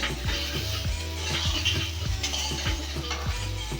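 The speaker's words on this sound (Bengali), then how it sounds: "কুমড়ো আর আলুটাকেও চাল ডাল আর মশলার সাথে নাড়াচাড়া করে খুব ভালোভাবে মিশিয়ে নিচ্ছি" A spoon scrapes and clatters in a pot, stirring pumpkin and potato together with rice, lentils and spices for khichuri. The strokes are steady and repeat roughly twice a second over a low sizzling hiss.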